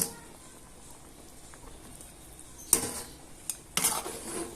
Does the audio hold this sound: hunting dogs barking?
no